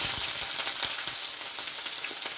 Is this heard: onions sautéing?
yes